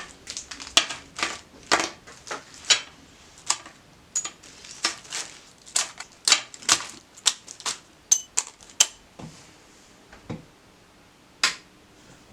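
An Elna 9000 computer sewing machine stitching, giving irregular bursts of sharp mechanical clatter and ticking with short pauses between runs, moderately close and with no talking.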